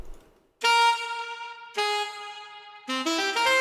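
Sampled saxophone processed with EQ, wave shaper, OTT compression, chorus and reverb, sounding bright and thick as it plays a few sustained notes followed by a quick rising run, loud and alone.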